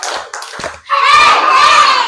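Children in a classroom clap their hands together, a dense burst of overlapping claps after some scattered shouts and voices, loud and close.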